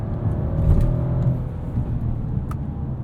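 Inline-six 3-liter engine of a Mercedes-Benz E450 4Matic sedan accelerating in Sport Plus, a low steady cabin drone with a faint rising tone and road rumble, moderately loud, no speech.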